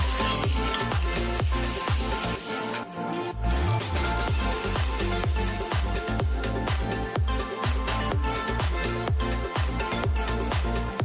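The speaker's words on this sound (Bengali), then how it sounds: "আলুগুলো ভাজা হয়ে গেছে, তুলে নিচ্ছি।" Potatoes frying in hot oil for chicken biryani, a steady loud sizzle with crackling and popping throughout, close up, with rhythmic scraping knocks of a utensil stirring and lifting the pieces from the pan.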